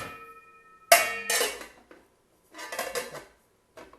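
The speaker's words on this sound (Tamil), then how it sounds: "இதை மூடி வச்சிடலாம்." A metal lid clatters onto a pot of simmering dal in a home kitchen, two sharp clanking bursts with a shorter clink at the end.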